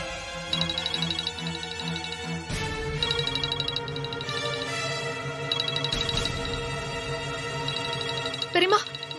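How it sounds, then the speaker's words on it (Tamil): A mobile phone rings with an incoming call during a Tamil TV drama scene, a repeating electronic melody with brief pauses, loud and continuous. "பெரியம்மா, துர்கா தான் ஃபோன் பண்றா"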